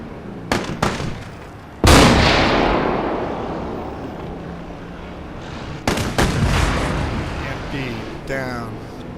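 Heavy gunfire aimed at enemy soldiers in a video game: a few sharp cracks, then one big booming blast with a long rumbling decay, and later another cluster of loud shots, with someone talking over the action.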